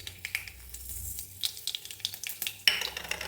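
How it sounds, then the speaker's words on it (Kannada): Mustard seeds popping and crackling in hot mustard oil, with sharp scattered spits and a bright burst near the end over low stirring clatter; close and fairly quiet, no talking. "ಎಣ್ಣೆ ಕಾದಿದ್ದಕ್ಕೆ ಸಾಸಿವೆ ಹಾಕ್ತಾಯಿದ್ದೀನಿ."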